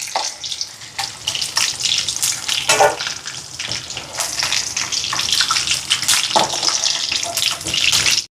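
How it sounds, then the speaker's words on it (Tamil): Onions sizzle steadily in hot oil for coconut sambal and rotti, a bright continuous crackle with no talk over it. "இப்போ பாருங்க, வெங்காயத்தை எடுப்போம். ஆகலும் பொரிய தேவையில்லை, கொஞ்சம் கணக்காக பொரிஞ்சாலே போதும்."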